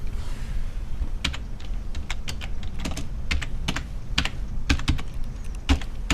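Fingers tap steadily on a computer keyboard, a run of close, crisp key clicks in uneven bursts over quiet room noise.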